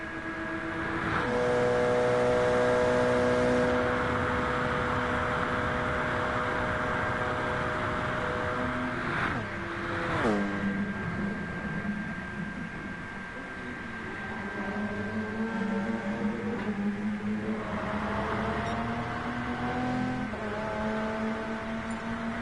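Race cars in a racing video game run down the back straight, with steady engine drones whose pitch climbs through the gears, several cars layered together, a continuous close roar with shifts near the middle and no talking.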